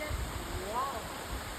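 Steady rushing roar of a waterfall on the Caribbean island of Grenada, close and continuous, with a person's voice briefly exclaiming over the constant wash of falling water.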